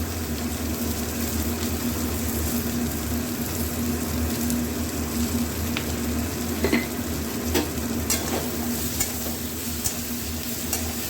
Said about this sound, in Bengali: সমস্ত মশলাগুলো ভালো ভাজা হোক